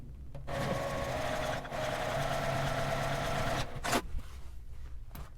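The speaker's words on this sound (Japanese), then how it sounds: "開いて表側だけ端ミシンをかけます。" A sewing machine edge-stitches the outer side of a zipper on a makeup pouch, running in a steady close whir with a brief pause, then stopping with a clunk.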